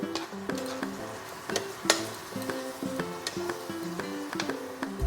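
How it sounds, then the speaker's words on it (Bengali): Spice paste for Bengali khirod katla fish fries in a pan over low flame, a soft sizzle broken by repeated scraping clicks of stirring, with faint background music and no talk. "দিয়ে মশলাটাকে ভালো করে এবার আমি কষিয়ে নেব।"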